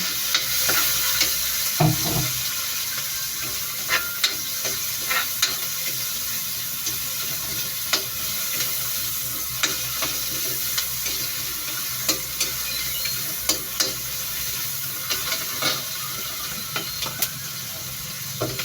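Tomatoes frying and being stirred in a pan, with a steady close sizzle under repeated spoon scrapes and clicks against the pan, and no talking.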